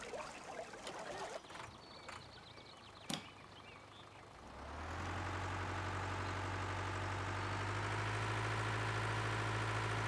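A small tractor engine in Farming Simulator 15 starts up after some rustling and a click, then settles into a steady, loud, droning idle with a low hum that holds to the end.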